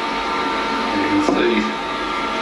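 A wire brush scours weld seams on steel at the rear end of a vehicle being prepared for sealing, a steady, loud, broadband scrubbing roar that runs throughout.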